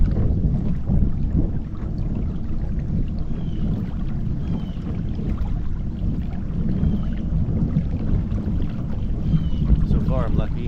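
A kayak paddles slowly across Lake of the Ozarks in a no-wake zone, with a low, continuous rumble of water and wind buffeting the microphone close up.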